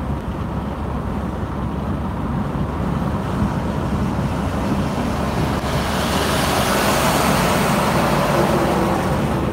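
Heavy truck passing in roadway traffic, a broad steady rumble that swells louder in the second half as it draws near, with no one talking.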